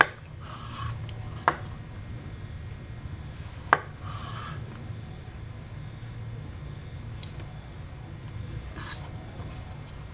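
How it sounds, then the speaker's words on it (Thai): A kitchen knife slices shiitake mushrooms on a cutting board while a Japanese steamed egg custard is being prepared, leaving two sharp taps amid soft rubbing and faint scraping over quiet room noise. "ต่อไปหั่นเห็ดหอม"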